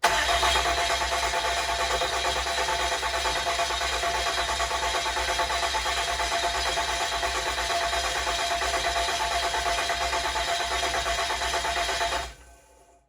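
A 1400 hp 6.7 diesel engine swap cranks for the first time, with a steady, continuous whirring drone held for about twelve seconds before it cuts off abruptly.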